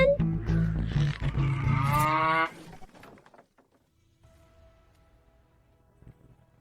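A cow lets out a long, loud, close moo that fades into quiet background rustling, set in a dubbed drama about a poor blind man's household during a famine.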